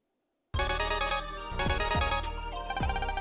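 A bright electronic chime with layered tonal notes starts after a brief silence and rings steadily for about three seconds, punctuated by a few short swooping accents, as the new-mail notification in the video game Mega Man Star Force.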